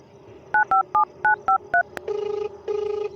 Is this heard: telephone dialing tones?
yes